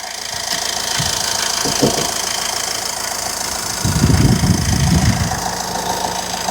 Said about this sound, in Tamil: இந்த பாருங்க வண்டி ஸ்டார்ட் பண்ணி காட்டுறேன் பாருங்க